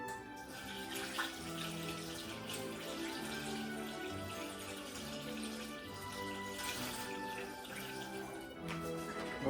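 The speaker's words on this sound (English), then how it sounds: "if you pour a bottle like this, it doesn't glug?" Liquid poured steadily from a bottle in a smooth stream without glugging, in an engine break-in setting, a continuous soft rushing flow over low background hum.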